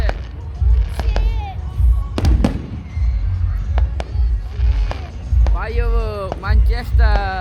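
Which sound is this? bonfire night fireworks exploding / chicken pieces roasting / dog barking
bonfire night fireworks exploding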